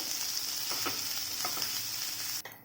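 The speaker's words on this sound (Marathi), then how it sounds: "त्यासाठी मी इथे एक पॅन ठेवलेला आहे आणि आपण घेतलेलं वाटण छान परतून घ्यायचं आहे थोडंसं" Ground spice paste for drumstick-leaf thepla sizzles and fries in a pan as it is stirred, a steady close hiss with faint scraping, cutting off abruptly near the end.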